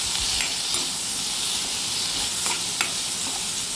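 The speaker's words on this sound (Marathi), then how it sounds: "आता आपण ह्याच्यामध्ये ज्या भाज्या चिरून घेतलेल्या आहे ते टाकूया. टोमॅटो, एक एक करून सर्व भाज्या आपण ह्याच्यामध्ये टाकणार आहोत." Chopped vegetables and tomato go into a hot pan for masala rice and sizzle loudly and steadily, a close, continuous frying hiss with faint stirring taps and no talk.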